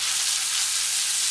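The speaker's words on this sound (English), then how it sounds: "I recommend that you use a non-stick pan, frying pan" Steady, bright sizzling of Swedish meatballs frying in a hot pan, a continuous crackling hiss without any voices.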